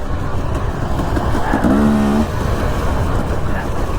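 Dirt bike motorcycle ridden in Idaho's Danskin Mountains: a steady engine drone with a brief rising rev in the middle, close and fairly loud, with wind noise and no talk.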